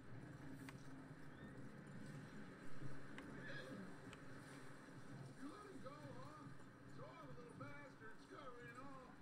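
A horse in Red Dead Redemption 2 whinnies several times over a low background rumble, the neighs rising and falling in pitch, with a brief thump of movement partway through.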